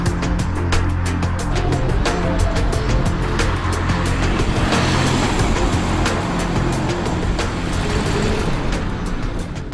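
Race car lapping the Zandvoort circuit, a loud, continuous engine roar with rapid repeated bursts, close and dominant for the whole stretch, no voices.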